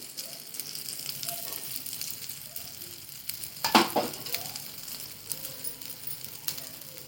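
Thalipeeth of bhagar and potato frying in ghee on a gas stove, a soft steady sizzle with a brief metallic clink partway through, no talking.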